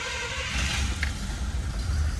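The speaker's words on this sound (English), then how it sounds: "Let's go ahead and fire her up." Cold start of a 1967 Cadillac DeVille engine that has sat overnight, heard as a steady, fairly loud low idle rumble with a slight roughness, continuous and alone throughout.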